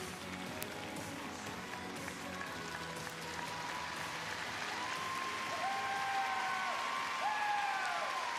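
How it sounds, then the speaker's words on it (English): Audience cheering and applauding a pairs team in a figure skating arena at a Tokyo 2023 pairs free skate, a steady wash of crowd noise that swells louder in the second half, with scattered whistles rising above it. "And you can hear the audience just cheering them on."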